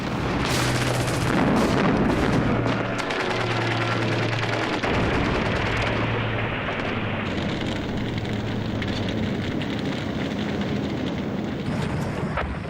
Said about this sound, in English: as they drifted down to earth, they were cut to pieces by German fire